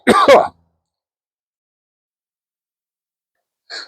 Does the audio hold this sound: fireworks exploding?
no